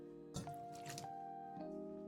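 Wet, squishy squelches come from hands kneading wheat flour dough with plain water, in a short burst of sticky pressing followed by one more squish, close and quiet against a faint steady hum.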